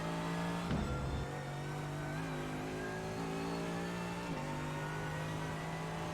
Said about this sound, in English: And full throttle back to the start finish line.